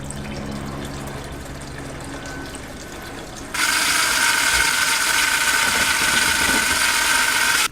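Base reducer is poured into a paint mixing cup already holding base coat: a faint mechanical ticking first, then an abrupt loud, steady hissing pour that fills the rest of the clip, close up, with no voices.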